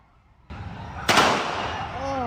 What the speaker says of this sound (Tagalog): Kaya pinaputukan na siya ng mga pulis